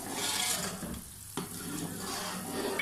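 Ingredients being mixed into zarda sweet rice in a pot, a continuous close scraping and sizzling wash with a brief dip and a sharp knock partway through, no talking.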